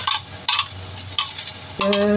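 Shallots and garlic sizzle in a wok as they are stirred, with bursts of scraping and frying crackle recurring every half second or so, close and fairly loud.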